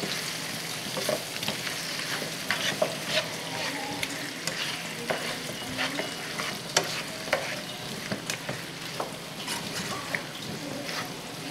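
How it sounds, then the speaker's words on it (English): Curry chicken sizzles and fries steadily in a pot while a utensil scrapes and stirs with irregular clinks, no talking. "I'm gonna stir this up before I pour the liquid in."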